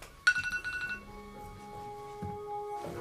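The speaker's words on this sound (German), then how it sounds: "Das Klingeln war wohl Ihr Handy." A mobile phone rings indoors, starting with a bright chiming burst of clinking tones and then settling into sustained electronic notes, fairly quiet and alone with no talking.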